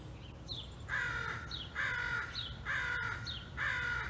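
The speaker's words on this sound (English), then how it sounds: "Sometimes the crows are getting pretty loud now." Crows caw outdoors in a regular series of four or five harsh calls about a second apart, fairly close and loud over a soft background hiss.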